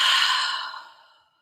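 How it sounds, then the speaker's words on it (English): A slow, soft exhale during a calm breathing exercise, a breathy airy rush that fades gradually to silence over about a second. "And then when you're ready, breathing out."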